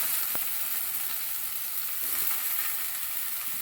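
Washed chicken frying with onions in a pan, a dense, even sizzle heard close and alone throughout, with one brief clack of a utensil near the start.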